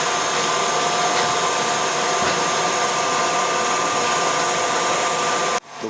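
Electric mixer whipping egg whites for a schlitt recipe, a loud, steady whirring drone close by that cuts off abruptly near the end, with no voices.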